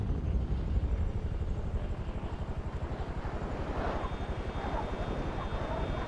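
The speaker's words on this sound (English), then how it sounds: "I hear helicopters." Helicopter rotor thumping in GTA 5 Online, a rapid low pulsing chop that runs continuously and fairly close, with a whooshing wash over it and a brief tonal whine near the end.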